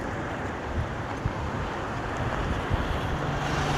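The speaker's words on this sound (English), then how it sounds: "it's very windy today" Steady roaring wind buffets the microphone outdoors in France with broadband rumble, constant throughout, with a few gusty bumps and no voices.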